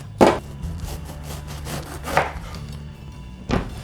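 Kitchen knife cutting through eggplant by hand, with a few distinct chopping strikes against a cutting board spaced apart, close and moderately loud, no talking.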